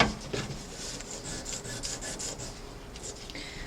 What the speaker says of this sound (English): I take a piece of 600 grit sandpaper, and I might even use a piece bigger than this, and I like to get it wet